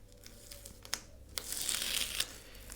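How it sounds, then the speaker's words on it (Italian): Tape is pulled off a kitchen countertop during a faux-marble finishing job. Quiet crinkling and a few sharp crackles come first, then a longer, louder tearing peel, all close by with no one talking. "Sono passate quasi 30 minuti e ora dovrei tirare via il nastro."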